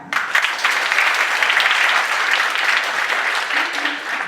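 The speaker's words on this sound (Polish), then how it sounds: "brawa dla Pani" Audience applause at a breast cancer awareness campaign event, a full round of steady clapping from a roomful of people, loud and even, tapering slightly at the end.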